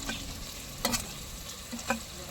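Chilli hitting a hot pan of soybean rice masala with tomatoes, a steady sizzle of frying with a few sharp scraping stirs of a spoon against the pan, close and alone.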